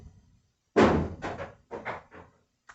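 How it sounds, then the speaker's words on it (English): Walnuts drop onto a roof: one heavy, close thud, then a few softer knocks spaced irregularly over a couple of seconds, with quiet pauses between. "roof is being bombarded by walnuts"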